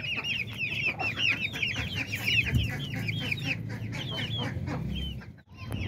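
Hens and roosters clucking in a pet cage among other farm birds: dense, overlapping clucks in a steady busy chorus, moderately close, with a brief thump and a short lull near the end.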